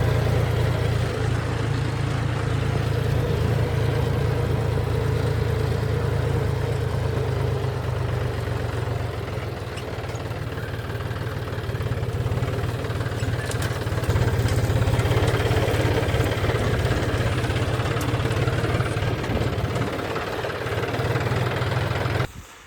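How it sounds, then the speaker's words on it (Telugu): Tractor engine running steadily while being driven through a field, a close, continuous low diesel drone with a rhythmic throb that holds at an even level and cuts off at the very end, with no voices. "ఇక ట్రాక్టర్ డ్రైవ్ చేసుకోవచ్చు"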